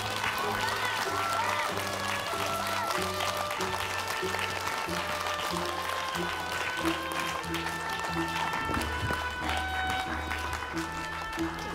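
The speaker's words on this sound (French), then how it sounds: "je peux aussi vous demander d'applaudir les merveilleux jeunes comédiens qui m'ont aidé à raconter cette histoire" Audience applauding steadily at the close of a stage play of Gulliver, with sustained tonal music playing through and under the clapping across the whole stretch.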